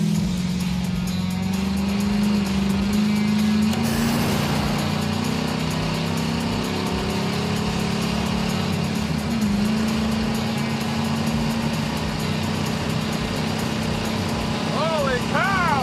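Stock Oldsmobile 455 V8 with a Holley carburetor and exhaust running on a 125 shot of nitrous, a loud continuous engine drone that rises and shifts in pitch throughout, with voices faintly underneath.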